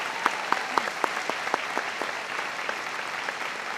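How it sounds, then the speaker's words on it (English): Sparse applause from a high school graduation audience, a few distinct claps that thin out and grow quieter over a few seconds, heard at a moderate distance in a large hall. "so I would like to give them a round of applause."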